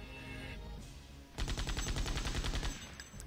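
Rapid burst of gunfire from the Septerra Core video game battle, loud repeated shots rattling for about two seconds over a steady game soundtrack.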